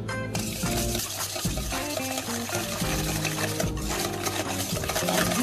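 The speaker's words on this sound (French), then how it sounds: "On fouette tout ça." Eggs and sugar being whisked in a bowl for a pineapple cake, a steady busy scraping and clinking that runs continuously and fairly loud throughout.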